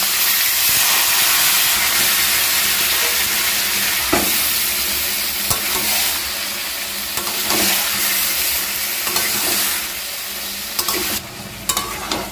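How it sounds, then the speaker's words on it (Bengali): Taro leaves sizzle and hiss in a hot pan while being stirred, with steady frying noise and occasional scraping clinks, close and fairly loud. "কচুর শাকটা দেওয়ার পর আমি একটু নেড়ে চেড়ে নিলাম।"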